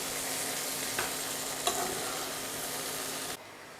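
Eggplant meatballs fry in a pan with a steady close sizzle, a couple of brief knocks as they are turned, then the sizzle drops abruptly near the end.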